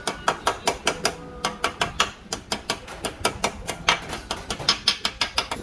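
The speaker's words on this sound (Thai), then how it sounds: "ก็จะใช้ค้อนนะครับ ค่อยๆตีเข้าไปนะครับ ตีให้สม่ำเสมอนะครับ" Rapid metallic taps ring out in a steady rhythm, dozens of sharp hammer strikes close by driving a bearing race into the steering head of a 2011 Honda Scoopy-i scooter, briefly pausing then continuing.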